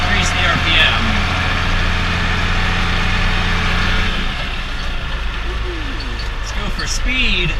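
Steady engine driving a corn elevator, a continuous mid-pitched drone that shifts in tone partway through as the RPM is eased up, with someone talking over it.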